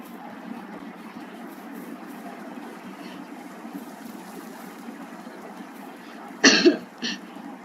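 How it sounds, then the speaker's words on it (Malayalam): Two sharp, close coughs break out near the end, following a long stretch of low, steady background rumble. "ചെറുതായിട്ട് ചുമയും കാര്യങ്ങളൊക്കെ ഉള്ളതുകൊണ്ടാണ് നിങ്ങളൊന്ന് സഹിക്കുക"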